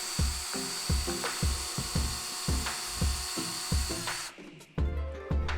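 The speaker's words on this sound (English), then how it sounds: "we're going to use the drill, and we're going to counter drill, or pre-drill, a small hole all the way through" A power drill pre-drills a small hole straight through a piece of wood, its motor whirring loudly in repeated short bursts with brief pauses, then stopping abruptly near the end before one more burst.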